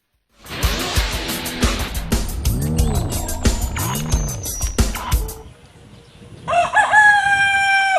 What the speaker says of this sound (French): Le coq chante, il annonce le lever du jour.